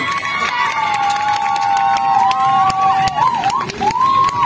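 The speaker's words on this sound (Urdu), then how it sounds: "میرے لیے بھی تالیاں" A crowd cheering at a live store program, with shrill sliding whistle tones riding over a noisy bed of voices and scattered claps, fairly loud and close.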